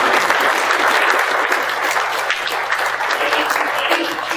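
Applause from the audience at a comedy hypnosis show in Melville, Saskatchewan: sustained, fairly loud clapping from a crowd, steady throughout with small swells and no break.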